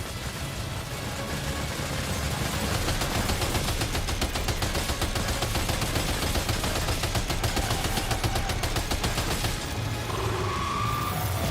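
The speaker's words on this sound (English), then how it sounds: "Opening fire now." Sustained gunfire in the video game Death Stranding 2, a dense, rapid rattle of shots filling the whole stretch at steady loudness, with mechanical clatter mixed in and no talking.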